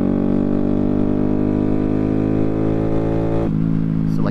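A 2022 Honda Grom motorcycle with an aftermarket DHM cam pulls hard under acceleration, its steady, loud engine drone rising in pitch before a brief shift near the end, with no talk.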